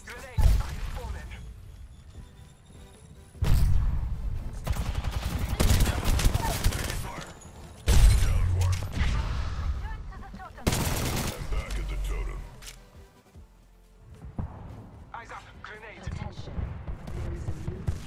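Video game gunfire in bursts of rapid shots that come and go in several loud volleys, mixed with other game sounds and a voice talking throughout.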